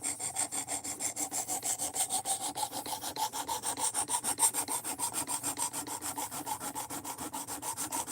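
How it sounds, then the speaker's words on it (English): Knife edge ground back and forth on a 220 grit sharpening stone, a close, rapid, even rhythm of raspy scraping strokes, about five per second, with no talking. "I'm having to hog off way more material than I want to on a 220 grit stone"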